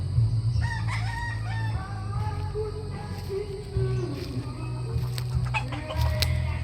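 Young gamefowl stags about four months old crowing on a farm, several overlapping cock-a-doodle-doo calls repeating close by over a steady low background hum.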